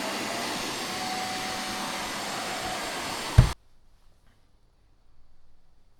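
A Roborock S8 Plus or M210P Ultra robot vacuum runs with a steady, broadband whooshing hum, then shuts off abruptly after a brief clunk, leaving near silence with a faint low rumble.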